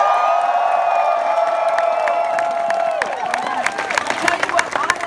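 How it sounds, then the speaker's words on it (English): A convention crowd at BlizzCon cheers and whoops under a steady tone, with scattered claps and shouts growing busier toward the end. "We're gonna cheer."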